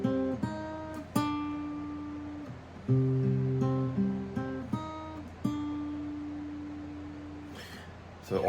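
An acoustic guitar is finger-picked in a lesson on a song, playing clear single plucked notes and small chords one after another at an unhurried pace, each ringing and decaying, close and alone without talk.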